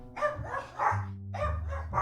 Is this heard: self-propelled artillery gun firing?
no